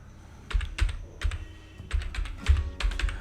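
Rapid typing on a computer keyboard while entering Java code, with bursts of close, crisp key clicks and clacks in an irregular rhythm, separated by short pauses.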